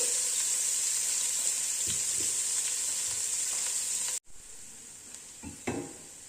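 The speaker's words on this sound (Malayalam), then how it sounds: "ഉള്ളി ഒണിയനും കൂടി ഫ്രൈ ചെയ്യണം." Onions frying in a pan of hot oil, a steady loud sizzle running throughout, briefly cutting out near the end before resuming with a few stirring knocks.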